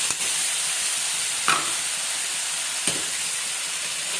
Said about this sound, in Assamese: আৰু এইখিনি ফ্ৰাই কৰিম মই মোটামুটি 10-15 মিনিটমান